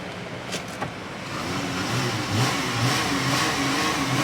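A Dodge Grand Caravan–type minivan engine, running with a new thermostat, rises into a sustained rev as gas is applied, a steady mid-pitched hum that swells and holds at close range with no talking.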